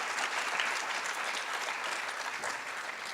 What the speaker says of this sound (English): So please give them again another round of applause.